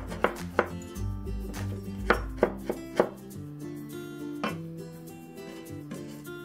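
A kitchen knife chops fresh ginger into fine shreds on a cutting board, giving a run of sharp, close knocks, some clustered and some spaced, with the blade striking the board each time and no one talking.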